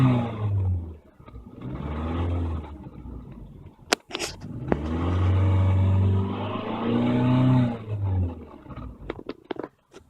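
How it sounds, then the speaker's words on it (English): Engine of a 2006 Toyota Camry Solara SE revving, close and loud, with repeated roaring surges that swell and fall back to idle, and a brief clunk between rev bursts. "I'll rev it up a bit."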